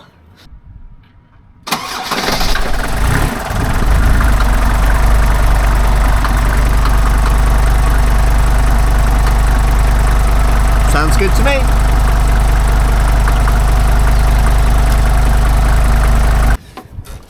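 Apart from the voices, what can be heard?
old van engine idling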